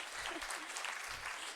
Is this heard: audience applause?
yes